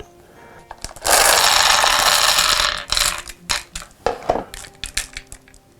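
Ratchet straps being cranked tight: a loud, close burst of rapid ratcheting lasting nearly two seconds, followed by a scattered series of separate clicks and clacks.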